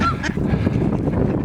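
Geese honk loudly and close by in a park, waterfowl giving a quick run of harsh overlapping calls over a brief stretch, with no talking.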